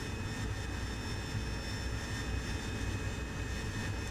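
Steady, loud roar of an AV-8B Harrier jet engine building thrust in the DCS flight simulator, a continuous broadband rush with a faint high whine throughout and no voices.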